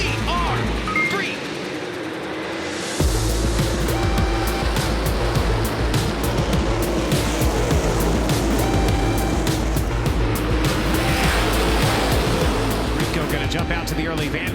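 Sprint cars race on the dirt oval at Eldora Speedway with a loud, dense continuous engine roar from the pack, sustained and near, after a brief quieter opening moment.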